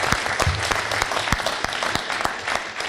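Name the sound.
audience applause for the moderator Kim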